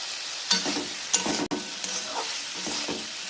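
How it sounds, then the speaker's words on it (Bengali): Potatoes frying in a pan, stirred with a spatula: continuous soft sizzle with a few sharp scraping strokes and a brief knock, close up, no voices. "আলুটাকে দু মিনিট ভেজে নিয়েছি এবার স্বাদ মতো লবণ দেবো আবারও ভালো করে নাড়তে থাকবো"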